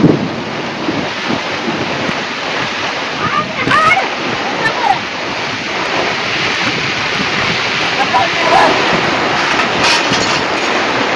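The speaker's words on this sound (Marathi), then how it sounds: "घाट उतरला बघा आता पाऊस आणि आज एकदम जोरात हजेरी लावली आहे" Heavy monsoon rain pours down in the Konkan region, a dense, loud, continuous roar of falling water and splashing that keeps up throughout, with occasional bumps and rustles close by.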